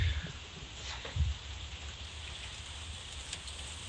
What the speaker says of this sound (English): how bad the background noise of the rain is